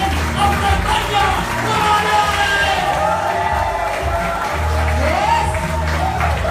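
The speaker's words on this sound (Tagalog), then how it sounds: "Medyo kayo palakpak!" A crowd at a lively sales event claps and cheers close by, the applause continuous and mixed with shouts and a loud voice speaking over it.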